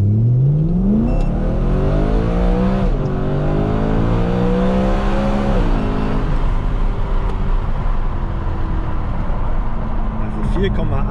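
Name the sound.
car accelerating hard from 0 to 100 km/h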